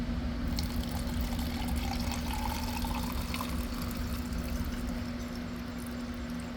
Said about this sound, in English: Here I just removed the fuel filter, and I'm going to pour it in here to see how does that look.